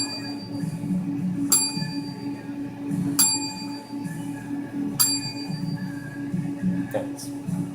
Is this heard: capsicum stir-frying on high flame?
no